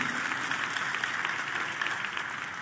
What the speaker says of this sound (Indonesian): boleh tepuk tangannya paling meriah buat Raja di atas segala raja